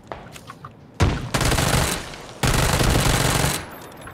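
Gunfire in the video game PUBG: Battlegrounds comes as two loud bursts of rapid automatic fire, each lasting about a second, separated by a short gap.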